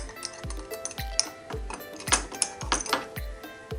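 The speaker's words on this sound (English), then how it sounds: "So you'll put your garlic into the press." Garlic cloves pressed in a handheld garlic press, giving a run of sharp metallic clicks and clacks with low thuds roughly twice a second, close and fairly loud.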